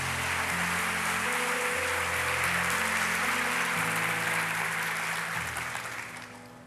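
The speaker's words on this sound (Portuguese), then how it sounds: "Você poderia aplaudir a Jesus por isso?" A church congregation bursts into sustained applause, a dense wash of many hands clapping that holds steady, with a low organ or keyboard drone underneath, then fades toward the end.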